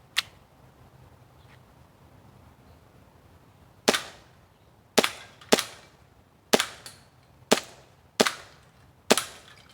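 A WE M1911 airsoft pistol firing, sharp close cracks: one isolated shot, then a pause before seven more snapping shots in a quick, slightly uneven string, each with a short ringing tail.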